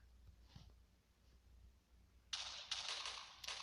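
A TNT block detonates in Minecraft Pocket Edition, a sudden loud broadband burst after a quiet lead-in, followed by a couple of further crackling bursts.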